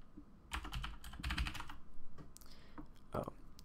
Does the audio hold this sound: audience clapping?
no